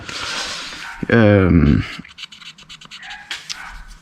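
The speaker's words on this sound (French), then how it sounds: "il va jamais la fermer sa gueule, ce putain de chien" A dog lets out a single loud, sustained bark or yelp lasting under a second, close by in a workshop where an engine block is being assembled. Quieter handling noises come before and after it.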